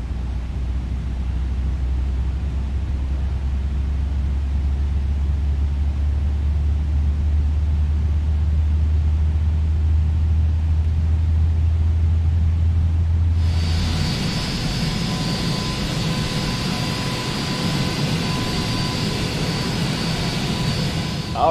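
An airliner's number 4 jet engine spools up on startup during pushback, with a low steady rumble giving way to a rising broadband roar and a high whine that hold loud and close.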